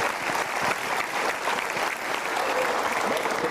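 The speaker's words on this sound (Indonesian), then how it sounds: "so kita berikan tepuk tangan untuk mereka bertiga." Studio audience applauding on an Indonesian motivational talk show, a steady dense wash of clapping from a large crowd, sustained at an even level throughout with no voices over it.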